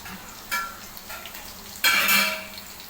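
Garlic and ginger-garlic paste fry over a low flame in a Koli-style kitchen, with a gentle sizzle under two louder bursts of stirring and utensil scraping against the pan.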